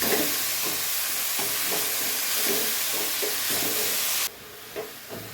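Fresh fenugreek leaves fry in a pan with a steady, close sizzling hiss and soft scraping stirs, then the sizzle drops away abruptly near the end, leaving a few faint knocks.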